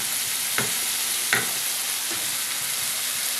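An egg cooking with spices in a pan gives off a steady, close sizzle, with two or three sharper scraping stirs standing out against the hiss.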